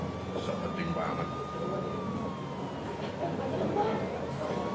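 An ambulance siren wails in a long slowly falling tone, moderately distant, over a busy outdoor crowd with chatter and traffic noise.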